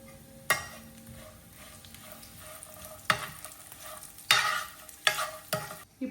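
Nuts and raisins frying in a pan for sheer khurma, a faint low sizzle broken by several sharp scraping stirs and clinks at irregular intervals, no voices.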